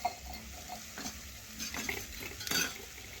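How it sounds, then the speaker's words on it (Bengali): Water poured into a pan of dried mango chutney on the stove, then stirred with a spoon, giving a continuous close sizzle and scraping with a few metallic clinks and no talking. "বাটিতে আমি পরিমাণ মতো জল দিয়ে দিচ্ছি, দিয়ে একটু নাড়াচাড়া করে নিলাম"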